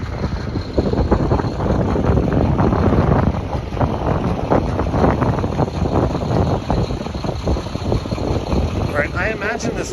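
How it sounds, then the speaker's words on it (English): Outdoor wind buffets an exposed microphone during a live stream in Scarborough, Toronto, a constant loud rumbling roar with gusty surges across the whole stretch, with a voice faintly present beneath it. "I imagine this wind must be sounding a little much."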